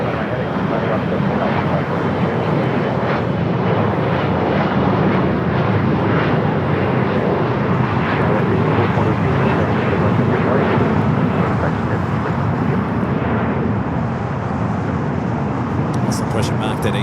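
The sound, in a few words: airliner jet engines at Los Angeles airport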